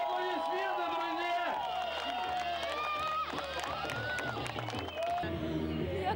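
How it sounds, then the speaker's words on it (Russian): Loud, continuous applause and cheering from a crowd fill the space, with a voice calling out over the clapping. "Ваши бурные аплодисменты, друзья!"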